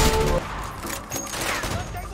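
Video game gunfire in A Way Out: a dense burst of rapid shots sounds close and loud for a moment, then fainter shooting continues under a muffled voice.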